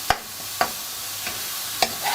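Grated coconut for a spicy Javanese salad is stirred in a pan over low heat, with a soft steady sizzle broken by four sharp scrapes of a spoon against the pan, with no talk.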